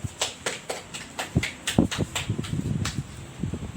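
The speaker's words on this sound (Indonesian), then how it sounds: "Tepuk tangan." Scattered hand claps from a small group of schoolchildren in a classroom after a quiz game, sharp and uneven, with a few louder claps standing out over room noise.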